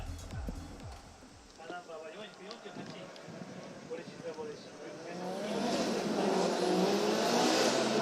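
Origin Labo Racing S15 drift car at a Formula Drift Japan qualifying session at Sugo, its engine revving and rising to a loud sustained roar toward the end, heard under a commentator's continuous speech.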